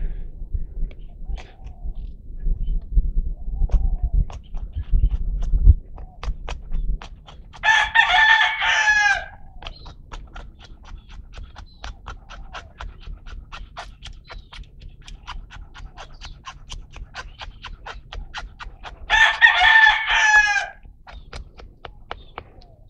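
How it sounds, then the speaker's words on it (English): A rooster crows twice at a bushcraft camp, each call a loud, drawn-out cock-a-doodle-doo standing out clearly from quiet outdoor background, well separated in time. "Okay, Rooster."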